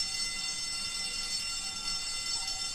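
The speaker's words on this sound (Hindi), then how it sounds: "इसने फायर अलार्म बजा दिया है।" A fire alarm rings steadily indoors, a continuous high electronic tone held without pause for a few seconds with no talking over it.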